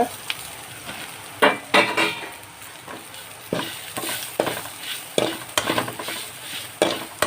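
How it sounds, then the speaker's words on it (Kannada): Spice masala frying in a hot pan while a utensil stirs it, with a continuous sizzle broken by repeated sharp scrapes and clanks against the pan, close and fairly loud. "ಈಗ ಎಲ್ಲ ಮಸಾಲನ್ನು ಒಟ್ಟಿಗೆ ಸೇರಿಸ್ಕೊಳ್ಳೋಣ."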